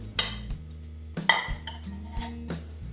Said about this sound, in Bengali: একটা প্লেট নিয়ে নিলাম, প্লেটে এই যে রেখে দিচ্ছি।